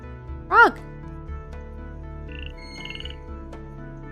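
A frog croaks once in the Milkmaid of the MilkyWay video game, a short, loud, pitched call standing out near the start over steady game music, followed by fainter chimes.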